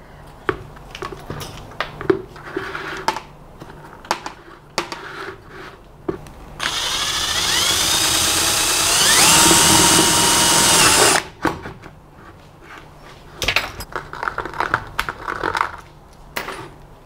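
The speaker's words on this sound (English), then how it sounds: "First, I'm going to drill a hole" Electric drill boring a hole in a plastic bucket, a steady rising whine lasting several seconds, close and loud, framed by scattered clicks, taps and handling knocks before and after.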